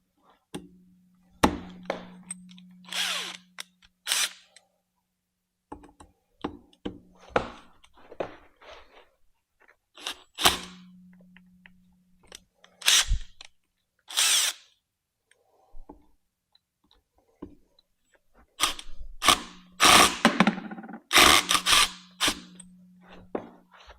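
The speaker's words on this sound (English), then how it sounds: "So let's get a Phillips screwdriver and take these out." A Phillips screwdriver removing screws from a Rattan LF 750 PRO treadmill during motor replacement: scattered taps, scrapes and clunks of the tool and parts in irregular bursts, with brief steady hums between them.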